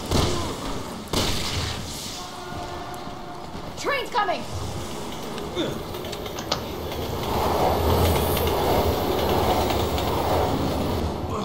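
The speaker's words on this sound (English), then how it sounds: "why is there a train active?" Train running in Resident Evil 6, a rumbling rail passage with clacking, booms and brief squeals over several seconds, moderately loud, with people talking over it.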